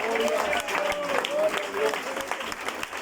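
A church congregation claps at a Sunday school gathering, a dense patter of applause mixed with voices and talk over it.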